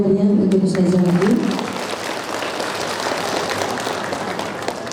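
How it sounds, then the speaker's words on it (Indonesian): An audience at a book festival talk show in Depok applauds, a sustained crowd patter that rises after a brief spoken phrase and continues steadily to the end. "sekali lagi berikan tepuk tangan yang meriah untuk Ustazah lagi"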